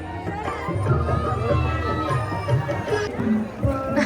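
A dense crowd of pilgrims gathers at night during the Pandharpur Vari, a steady hubbub of many overlapping voices and distant chatter that stays level throughout.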